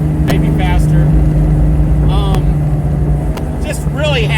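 A Coyote V8 engine in a car runs with a loud, steady low rumble and a strong hum, while people talk briefly over it.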